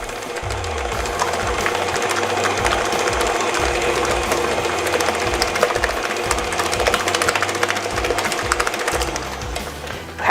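A stand mixer beats buttercream icing after being turned up to a higher speed, giving a continuous loud mechanical whir with a rattling, chattering motor pulse from start to finish, and no talking.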